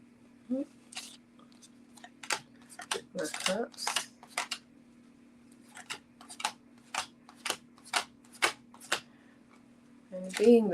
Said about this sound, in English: Yes, even though I'm about to shuffle.